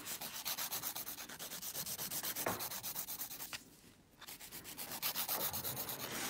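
A file buffs the corners of gel nails in quick, even back-and-forth rasping strokes, close and steady, with a brief pause partway through before the strokes resume.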